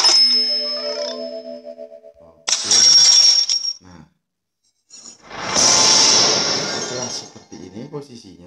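Game-style chimes, sharp clinks and a glassy crash ring out in bursts from a mobile billiards game, bright and loud, with brief silences between them.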